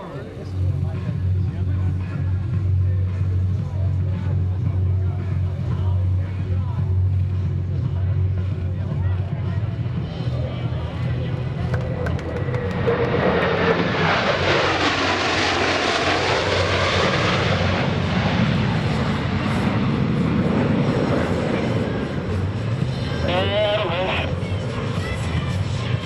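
US Navy Blue Angels jets at an air show build from a distant rumble into a loud, roaring pass near the crowd at high speed, then fade into a lingering rumble, with a public-address voice underneath.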